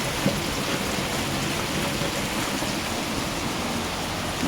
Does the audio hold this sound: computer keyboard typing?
no